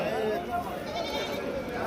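Goats at a busy livestock market in Shirur bleating in short wavering calls, heard close against a background of crowd murmur and talk.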